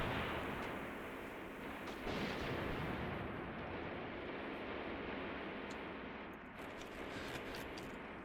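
Artillery fire in the tank war game Graviteam Tactics: a continuous low rumble of distant shelling, with heavy booms blending into a steady roar and no speech.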